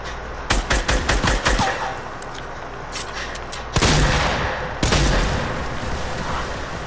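Fortnite gunfire: a rapid burst of automatic shots, then two heavy, booming blasts with long decaying tails, loud and close, no talking.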